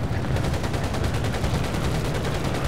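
Machine gun fire in the air combat video game Air Conflicts Pacific Carriers, a rapid, even stream of loud shots rattling continuously throughout with no pauses.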